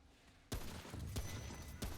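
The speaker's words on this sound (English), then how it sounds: "at the very least the gunfire is pretty loud" Loud bursts of gunfire in Remnant: From the Ashes, several sharp shots in quick succession after a brief quiet start.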